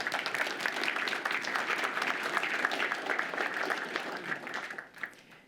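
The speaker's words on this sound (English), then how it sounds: "I want to give them a round of applause" A crowd applauds warmly and steadily for several seconds, then the clapping thins out and fades at the end.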